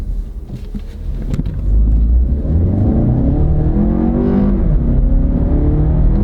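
A 4-cylinder turbo car pulls away from a stop on a drag strip, its engine rising steadily in pitch as it accelerates hard, loud and close from inside the cabin.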